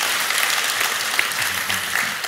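A church congregation applauding during a senior pastor announcement, a loud, steady wash of many hands clapping throughout, with faint voices briefly audible underneath.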